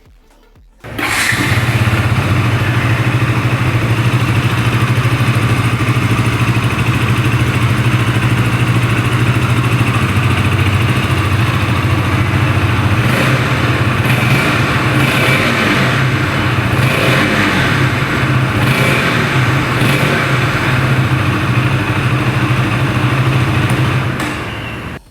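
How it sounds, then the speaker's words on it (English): A KTM RC 200 sport bike with an underbelly exhaust starts up and runs for over twenty seconds, its loud, steady low idle broken by a few sharp throttle blips near the middle, heard close with no talking. "so let's hear the exhaust note"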